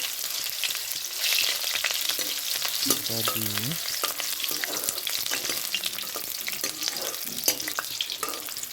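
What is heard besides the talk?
onions frying in pan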